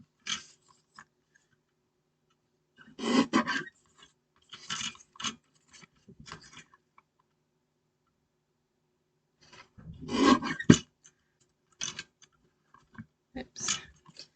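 Card paper being cut while making a stamped hexagon floating panel card: a few short, close bursts of crisp scraping snips separated by near silence.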